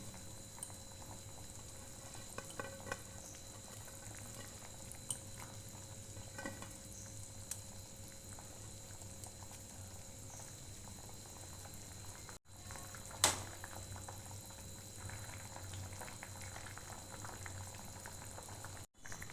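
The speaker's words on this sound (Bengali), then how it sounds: "ঝোলটা ফুটে অনেকটা কমে এসেছে" Chhana dalna curry gravy with chhana fritters boils steadily in a pan, a soft continuous bubbling and simmering heard close up and alone, with a brief clink partway through.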